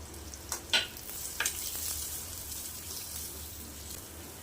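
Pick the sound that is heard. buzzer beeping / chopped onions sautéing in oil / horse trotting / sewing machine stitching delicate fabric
chopped onions sautéing in oil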